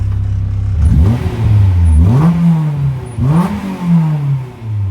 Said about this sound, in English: But if you give it a bit of revs, it might be a little bit louder.